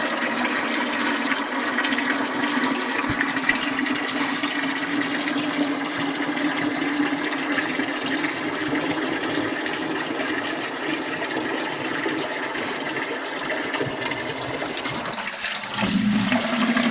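Engine oil drains from a truck into a bucket, a steady continuous pouring and splashing of liquid heard close up, with a low rumbling hum underneath and a slight change near the end.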